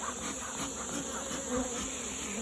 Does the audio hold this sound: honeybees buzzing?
yes